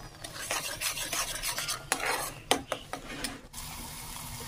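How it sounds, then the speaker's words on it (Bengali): A spoon stirs spice paste and onions in hot oil in a pan for a fish curry, scraping and clinking against the metal over a soft sizzle, close and fairly quiet. "ঢেলে এবার এটা আমি তেলের ওপরে কষাবো, মশলাটা ভালোভাবে ভেজে নেব।"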